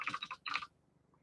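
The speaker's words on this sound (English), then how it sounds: "Listen to my clacky keyboard." Quick bursts of clacky computer keyboard typing, two short flurries of sharp key clicks, then silence.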